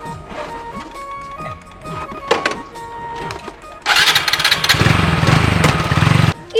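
A motorcycle in a Bengali fairy-tale drama roars up loud and close for a couple of seconds after quieter, mixed background sounds, then cuts off abruptly.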